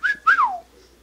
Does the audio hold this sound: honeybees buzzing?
no